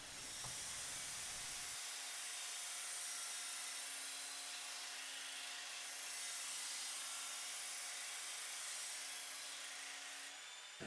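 A Work Sharp combined knife-sharpening machine grinds a knife edge on a coarse P120 belt set to speed 6 in continuous run, producing a steady, loud abrasive hiss over a constant motor whine that starts after a brief pause and runs unbroken.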